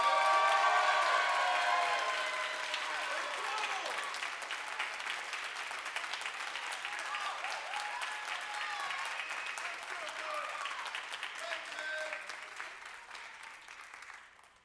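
Applause from a live spoken word audience in Canada for Dwayne Morgan, a dense steady wash of clapping that starts loud and slowly thins toward the end, with scattered voices mixed in.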